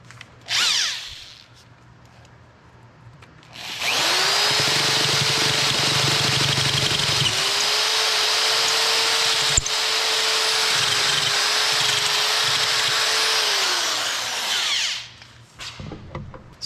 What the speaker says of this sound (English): So the one thing about electric drills that aren't cordless is when they grab, there's a lot of torque there.